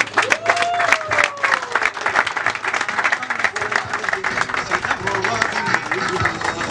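Audience applause at a talk event, lively clapping from a room full of people, steady and close, with a few voices and a tone briefly rising over it.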